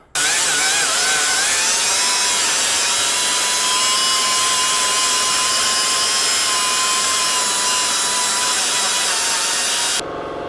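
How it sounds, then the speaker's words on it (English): A whiz wheel cuts through a weld holding a 1971 Volkswagen Super Beetle body to its floor pan, giving a loud, steady high-pitched grinding whine that runs unbroken for about ten seconds and then stops abruptly. "Someone did weld this to the pan, so I'm gonna have to get a whiz wheel in there and solve that problem."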